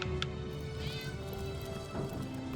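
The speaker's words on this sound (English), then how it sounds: "I hear a kitty" A cat meows in the video game Divinity: Original Sin, a few drawn-out rising and falling calls over quiet game ambience with a faint steady tone underneath.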